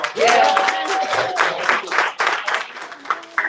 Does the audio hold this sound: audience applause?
yes